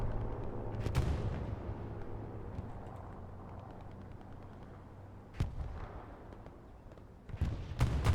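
A strafing run tears over the Omaha battlefield in the Hell Let Loose shooter: a sustained roar of gunfire and engine noise, punctuated by several sharp, loud cracks and bursts near the start and the end, with no speech.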